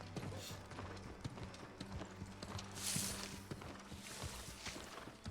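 A horse's hooves clip-clop in the video game New World, a steady rhythmic trot of hoof strikes with faint mechanical clanks alongside, moderately close and fairly quiet, with no talk.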